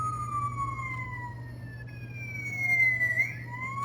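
Siren of a Carrera Digital toy ambulance, with a thin electronic tone gliding slowly down, then rising and falling again over a steady low hum. It plays alone, fairly close.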